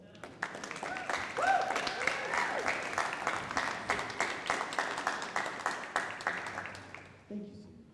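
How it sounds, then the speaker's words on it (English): Seniors applaud their parents at a high school band's final concert: a steady wash of clapping from the audience with a faint cheer early on, fading out at the end as a voice begins. "So seniors, can you give your parents a round of applause?"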